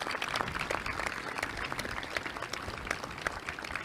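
A crowd at an event-center groundbreaking ceremony claps steadily, a dense, even patter of many hands continuing throughout without a break.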